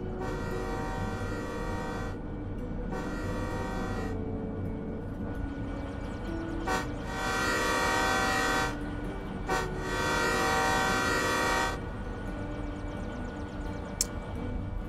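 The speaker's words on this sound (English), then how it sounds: "And of course, you have a horn." A DE6 diesel locomotive horn in the video game Derail Valley sounds in repeated blasts, a few short toots followed by longer sustained chords over a steady engine rumble.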